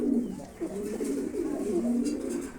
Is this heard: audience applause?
no